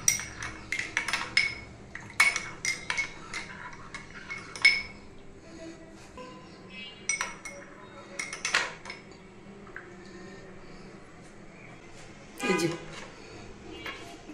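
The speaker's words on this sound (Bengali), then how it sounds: "এবার একটু নেড়ে নিব।" A spoon stirring lemon tea in a cup, with a run of sharp metallic clinks against the cup's sides in quick bursts, quiet pauses between them, and someone talking softly in between.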